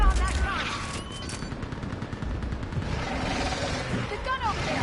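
Dense, continuous volley of gunfire from a mounted gun in Mass Effect 3, a loud sustained rattle of shots layered with battlefield noise and a few voice-like tones.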